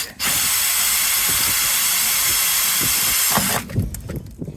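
A power drill drilling holes whines steadily at high speed for a few seconds, loud and close, then stops, followed by some scraping and handling noises.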